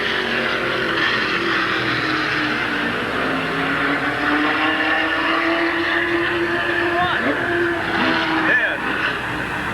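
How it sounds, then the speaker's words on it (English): Race cars roaring around Midvale Speedway during a 1986 heat race, a continuous loud engine drone with rising and falling pitch as cars pass, crowd and announcer talk mixed underneath. "What a heat race."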